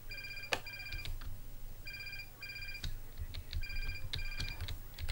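A house phone rings in repeated electronic trilling bursts, steady and fairly loud, over the faint background of a Minecraft game with clicking and light thumps.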